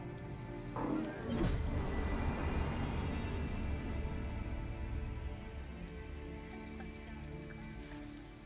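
Heavy pouring rain in the video game Detroit: Become Human, a dense steady hiss that starts with a brief burst and then holds on loud and unbroken for several seconds, with no speech.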